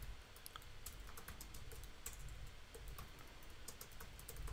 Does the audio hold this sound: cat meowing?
no